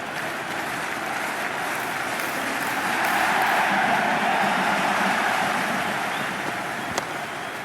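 Stadium crowd in the Cricket 26 video game during an India versus Afghanistan T20 match, a steady dense roar that swells slightly in the middle, with no talk over it.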